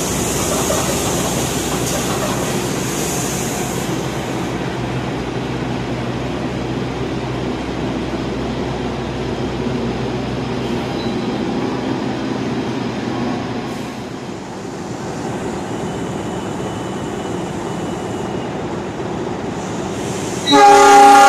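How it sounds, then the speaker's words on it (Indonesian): The Mataram passenger train from Solo Balapan rumbles steadily along the tracks as it pulls into an Indonesian station at night, rolling noise sustained for a long stretch, ending with a sharp horn or signal tone. "masuk kereta api Mataram dari Solo Balapan menuju ke stasiun Pasar"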